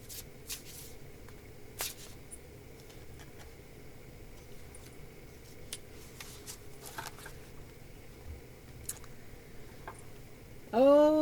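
Tarot cards shuffled and pulled make light, close papery flicks and ticks spread across a quiet room, with a short louder rustle at the end.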